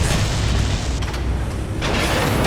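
The radome is destroyed in Metal Gear Solid on PlayStation with a loud, sustained roaring explosion, a broad rumbling blast that fills the clip with a couple of sharper bursts.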